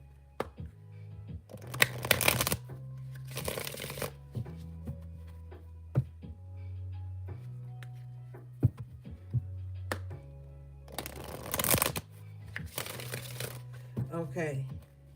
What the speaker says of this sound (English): Let me still get a shuffle for the next one